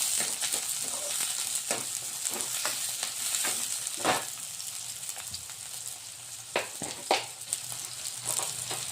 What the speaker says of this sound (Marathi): आता आपला कांदा मऊ होईपर्यंत शिजून घ्यायचा आहे।